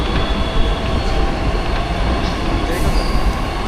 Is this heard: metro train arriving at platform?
yes